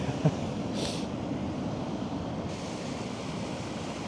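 A fast-incoming spring tide under a full moon sends waves rushing onto the shore, making a continuous broadband wash of surf with a brief brighter splash near the start.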